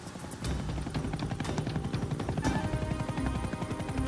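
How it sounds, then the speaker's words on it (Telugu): A steady rotor thump of a cartoon helicopter throbs rapidly and evenly under a continuous engine whine, loud and unbroken from start to finish, with no voices. "జాన్ బాస్ చెంకు కూడా హెలికాప్టర్లో మన వెనకాలే ఉన్నాడు"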